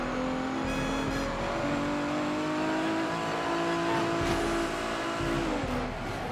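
Pagani Zonda engine revving in the racing game Midnight Club 3: DUB Edition Remix, a steady loud drone with pitch climbing and holding, then dropping near the end, with no one talking.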